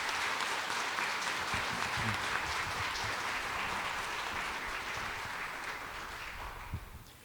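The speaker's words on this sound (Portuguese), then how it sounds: "Dá uma salva de palmas para Jesus" Church congregation at a Catholic Mass in a sanctuary clapping together, a sustained, moderately loud patter of many hands that eases off slightly toward the end, with no talking over it.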